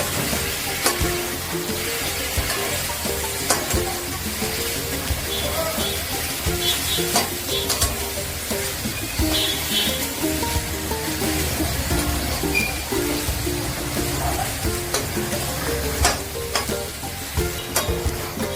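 A fish egg masala with soy sauce is fried and stirred in a pan, with a loud continuous sizzle and frequent spatula scrapes throughout, close and without talk.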